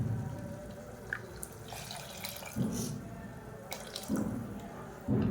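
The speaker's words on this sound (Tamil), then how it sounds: "இந்த ஸ்டேஜில் தண்ணி சேர்த்துக்கலாம்." Water added to tomato chutney in a pan, a quiet trickling pour with light splashes and bubbling, heard close with a few louder splashy moments.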